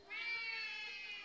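A human voice imitates a squashed cat's meow: one sustained, strained, nasal wail lasting just over a second, loud and close, with no other talk.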